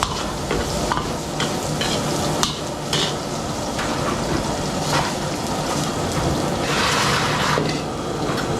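Garlic sautéing in a pan during farm catering cooking, a steady close sizzle with stirring and scraping throughout, no talking.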